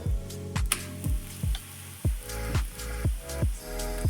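Methi bajra dhebra flatbread roasts on a pan over medium heat, a constant close sizzle broken by repeated scraping strokes of a spatula at a fairly regular pace, with no one speaking.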